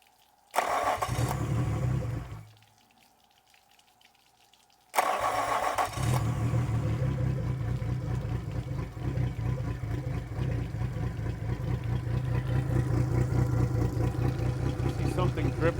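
A Yamaha 225 four-stroke outboard engine cranks and catches briefly, cuts out for a few seconds, then restarts and settles into a steady, loud running idle that continues to the end.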